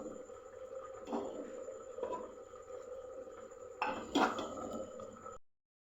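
A metal lid clanks off a pot of boiled potatoes in a home kitchen while paratha is being made, with a louder clatter near the end over low room noise and some talk.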